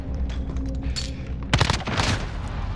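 Gunfire from the video game Call of Duty: Modern Warfare: a couple of sharp, loud shotgun-like blasts in quick succession over low game background rumble.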